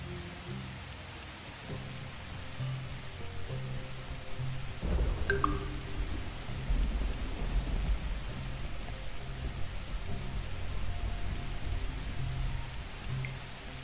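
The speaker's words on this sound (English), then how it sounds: "So let's make it rain so we have some more water." Rain and thunder in The Universim video game: a steady hiss of rainfall on the ground throughout, with a deep rolling thunder rumble swelling up midway and lingering under the downpour.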